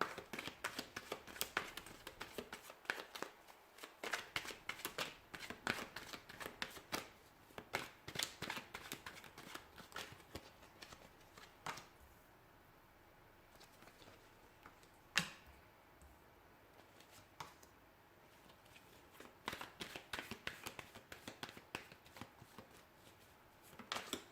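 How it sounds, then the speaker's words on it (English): Tarot cards are shuffled by hand in quick bursts of riffling, close and crisp, stopping briefly, then resuming several times, with no talking. "So we'll go ahead and give the cards a shuffle here"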